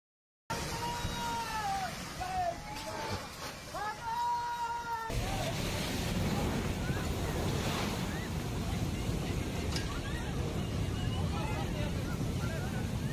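A powerful roar of tsunami waves surging and crashing, sweeping away cars, rushes on continuously, with wind buffeting the microphone and a few high cries early on.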